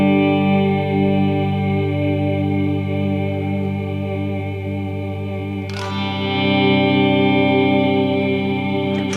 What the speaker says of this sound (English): I'll show what it sounds like with just delays.